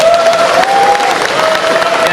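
An audience at a bike show applauds and cheers in a hall to honour a legendary guest, making a loud, steady wash of clapping from a crowd with a few whoops rising above it.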